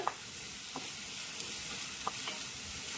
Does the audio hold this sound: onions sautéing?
yes